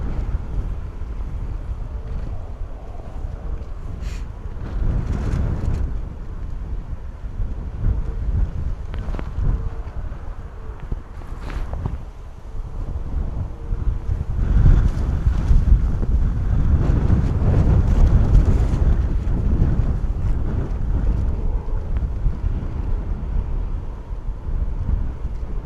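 Strong 35-knot wind gusting across the open ground of Bristol Airport, buffeting the microphone with a steady low roar that swells louder in the second half, loud and continuous with no talk.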